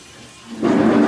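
Running water gushes onto crawfish tails being rinsed, starting quietly then swelling into a loud, steady splashing rush.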